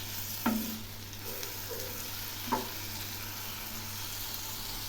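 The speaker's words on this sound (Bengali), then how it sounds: "আবার একটু নেড়ে দিচ্ছি।" Spices and garlic paste fry in a pan for aloo dum with a quiet, steady sizzle, while two distinct spoon-scraping stirs sound a couple of seconds apart. Faint and close.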